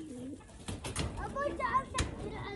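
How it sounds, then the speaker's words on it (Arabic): Pigeons cooing in soft, repeated calls at close range among other birds, mixed with children's voices and adult talk throughout. "تعال امسك الحمام."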